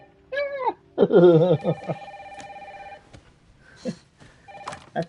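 A telephone rings in a home with tonal electronic ring bursts, while people talk over and between the rings.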